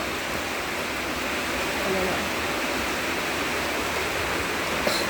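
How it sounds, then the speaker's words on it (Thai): Dense, steady hiss of rain falling heavily and evenly, with no voices and only a brief sharp tap near the end. "ฝนตกพี่น้องเอ้ย"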